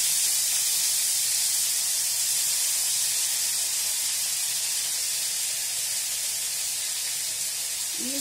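Rice frying in a pan with salt already caramelised, giving off a loud, steady hiss and sizzle that holds evenly throughout with no voices.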